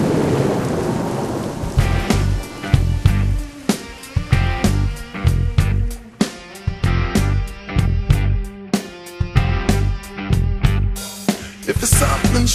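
A loud thunderstorm with repeated sharp thunder claps and rumbles over steady rain, set in a layered mix with strong rhythmic low-end pulses throughout.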